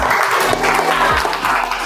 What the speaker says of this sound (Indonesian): Luar biasa, tepuk tangan buat 7F.